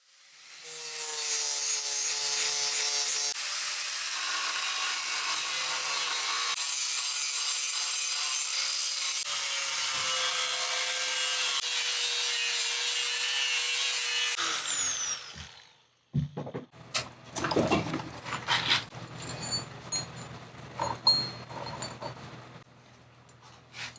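Scale is ground off a steel surface in preparation for forging a Damascus knife blade, a steady loud abrasive grinding for about fifteen seconds that stops abruptly, followed by scattered knocks and handling clatter.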